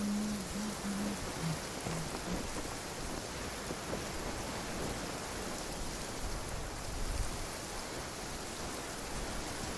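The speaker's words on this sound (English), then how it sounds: "The sound of rain masks the enemy's footsteps." Steady rain in Genshin Impact hisses evenly throughout, a dense wash of drops with a faint low rumble beneath, no voices.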